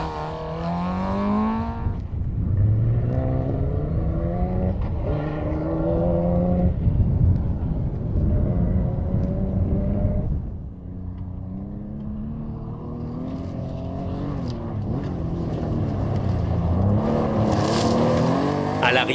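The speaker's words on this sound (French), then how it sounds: "d'admirer quelques belles machines comme la Mazda à moteur rotatif de Frédéric Rosati qui termine 5e." Historic rally cars, including a rotary-engined Mazda and a Fiat 131 Abarth, race through Moroccan stages, their engines revving and shifting under continuous French commentary, with cars rising and falling as they pass.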